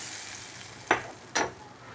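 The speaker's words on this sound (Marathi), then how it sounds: "मस्त फोडणी दिली" Cumin seeds and garlic hitting hot oil for a dal tadka, giving two sharp, close sizzling bursts about half a second apart over a faint steady hiss.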